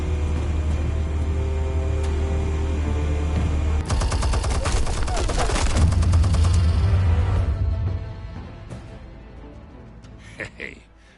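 Rapid gunfire and explosive blasts from a Batman Telltale video game erupt in a dense, loud burst over a steady low rumble, then fade into quieter background ambience.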